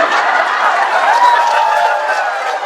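Sustained crowd applause and cheering fills a hall during an Isra' Mi'raj religious lecture in Batam, a dense, even wash of clapping with voices mixed in.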